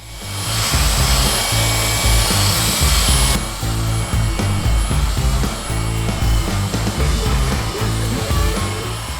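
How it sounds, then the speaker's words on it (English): A Craftsman 20-volt cordless belt sander, 3 inches wide, runs loud and close on wood with a steady whine and a pulsing grind as it is worked back and forth. "This is a Craftsman 20-volt cordless belt sander."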